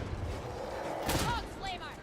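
A grenade thrown in the Warhammer 40,000: Darktide game explodes in a single broadband burst about midway through, loud and close, over steady game background noise and a voice speaking.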